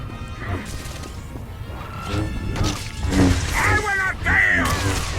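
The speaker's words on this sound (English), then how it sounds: "Destroy the interrogation room glass?" Interrogation room glass smashes in Star Wars: The Old Republic, with a couple of sharp crashes and bright shattering, then ringing shards over a low game rumble, fairly close and loud.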